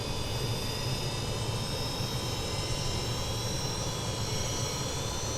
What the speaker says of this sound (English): And there goes your start for engine number 4